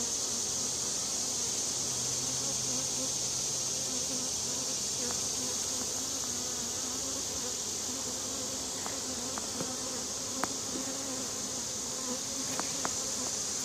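Honey bees swarm around open hive frames during an inspection, a dense, steady buzzing that fills the whole scene, with occasional faint clicks from handling.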